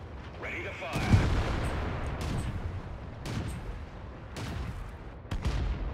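Tank cannon shots in World of Tanks, including a Crusader tank, heard as a few sharp booming reports over a steady engine rumble and game noise, with speech audible at times.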